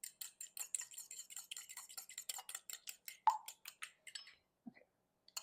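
A whisk or fork ticks rapidly against a bowl while egg and a little milk are beaten into an egg bath, a steady quick clatter of light taps that stops near the end.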